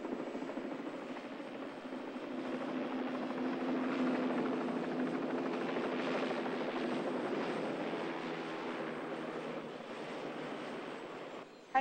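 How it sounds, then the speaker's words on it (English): Helicopter landing in a residential yard, a steady close rotor and engine drone that swells in the middle and holds for about twelve seconds, with no talk over it. "Look, Donna, that chopper's landing in Seth's yard"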